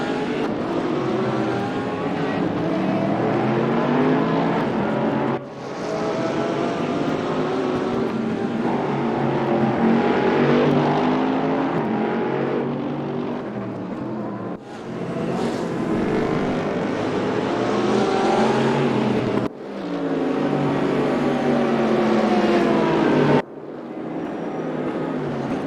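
GT3 race car engines roaring in the Raceroom sim racing game during a Nürburgring race. The loud, continuous engine drone rises and falls with gear shifts, broken by brief sharp cuts, and carries on for the whole stretch.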